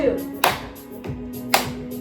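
Two sharp hand claps spaced about a second apart during a seated arm-swing fitness routine for Parkinson's, each crisp and close, with a voice talking softly in the background.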